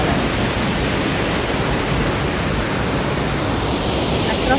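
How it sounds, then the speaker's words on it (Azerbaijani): Pəzməri waterfall, running at full force among mountains, gives a loud, unbroken roar of rushing water that fills the whole span with no pause. "Çox gözəl şəlalə."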